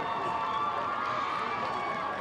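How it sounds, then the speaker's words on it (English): A large crowd at a high school football senior night roars and cheers continuously, a dense, steady wash of voices that stays loud throughout. "let's have a rousing applause for our first class of 2025"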